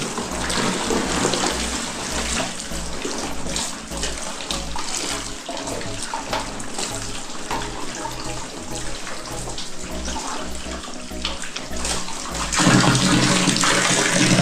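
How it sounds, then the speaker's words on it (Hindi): An AXOR riding jacket is scrubbed and kneaded by hand in a tub of water at home, with steady sloshing and splashing close by for the whole stretch, swelling slightly near the end as it is lifted out. "इसको 2-4 पानी से वॉश करेंगे।"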